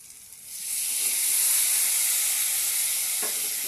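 Boiled potato and jackfruit hit hot spiced oil and erupt into a loud, sustained hissing sizzle that swells within the first second and stays strong, with a faint clink of stirring near the end and no talking.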